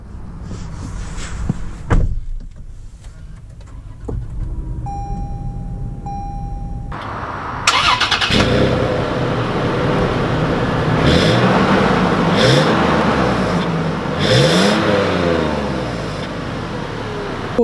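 A 2020 Toyota 4Runner Limited Nightshade Edition: a door thumps shut, then the engine starts loudly and rises and falls in pitch as it pulls away and accelerates, with a steady cabin rumble underneath.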